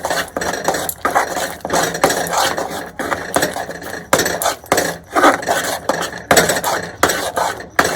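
A spoon stirs milk powder into milk thickening in a pan, giving continuous scraping and knocking strokes against the pan at a steady, near, loud rhythm.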